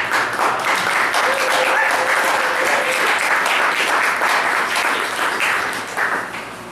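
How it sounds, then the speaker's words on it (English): Sustained applause from an audience at a poetry open-mic night, dense and steady for several seconds with a few faint voices and whistles mixed in, tapering slightly at the end. "let's all give a great round of applause for Ron Giles"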